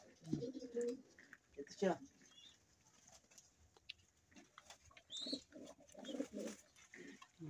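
Pet pigeons coo softly in a loft at home, low throaty calls scattered among a person's speech nearby, fairly faint.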